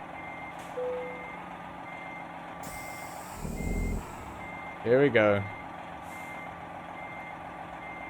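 A truck in American Truck Simulator, with a low engine rumble, an air-brake hiss and a burst of reversing beeps, close and fairly loud, while someone speaks briefly over it.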